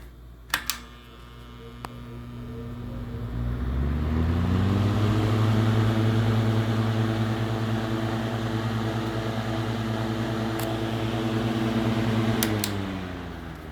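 A 1940s-1950s Mathes Air Cooler 14-inch box fan with a push-button switch starts up after a few clicks. Its motor hum climbs steadily in pitch into a loud, sustained drone, then slowly winds down near the end.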